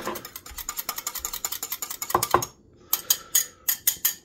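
A utensil stirring vanilla extract into a batter mixture in a bowl for fluffy Japanese pancakes, quick rhythmic scraping clinks close by, a brief pause, then more taps and scrapes.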